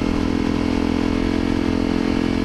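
A Honda CRF250L motorcycle engine with increased airflow runs steadily up close, a deep throaty rumble held at a constant level with no talking.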